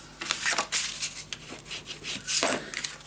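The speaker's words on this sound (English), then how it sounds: "Okay, burnish it down." Paper being burnished down by hand on a keepsake treehouse craft box, a series of close, dry rubbing and scraping strokes in uneven bursts with no talking.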